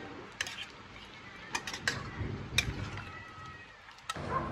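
Chicken curry with garam masala paste being stirred in a pan, with soft scraping and light clinks of a utensil against the metal at an irregular pace, close by and fairly quiet.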